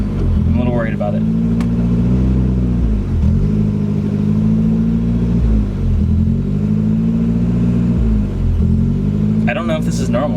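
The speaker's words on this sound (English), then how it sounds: "it's idling a little weird right now." A 1992 Volvo 240 engine idling roughly, a steady close low rumble with periodic dips and uneven pulses in its tone, with brief bits of talk near the start and end.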